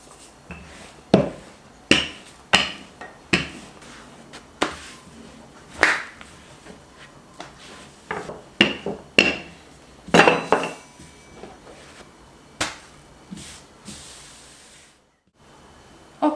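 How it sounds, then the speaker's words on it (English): Rolling pin working manti dough for Turkish tepsi manti on a counter, with a series of sharp knocks and clatters as the long oklava is set down and the dough is flipped, irregular and close, no talk. "If you don't, just flip the dough from time to time and use your rolling pin to roll out."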